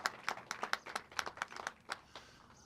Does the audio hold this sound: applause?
yes